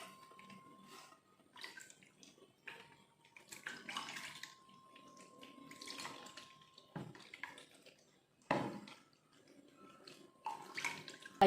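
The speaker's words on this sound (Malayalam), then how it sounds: "ചെറു ചൂടുവെള്ളത്തിലാണ് ഞാൻ കൈ കഴുകി കളയുന്നത് കേട്ടോ" Hands being washed in warm water, intermittent splashing and trickling in short bursts with quiet pauses between, close and soft.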